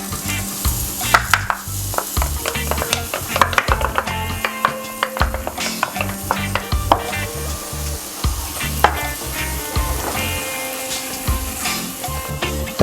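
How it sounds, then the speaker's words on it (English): Turmeric frying in hot oil in a pan for curry pumpkin, a steady close sizzle broken by repeated stirring scrapes and taps, with no talking. "I'm gonna add my turmeric to the oil."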